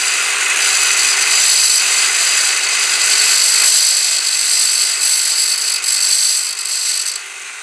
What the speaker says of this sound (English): What I always like to do is take the grinder